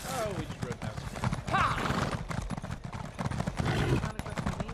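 Horses gallop past in a video game, a quick run of hoofbeats with a brief whinny, heard under people talking.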